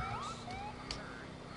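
A police car siren in a video game featuring a state police Crown Vic patrol car, wailing and sweeping steadily and loudly close by for the whole short moment, with no talk.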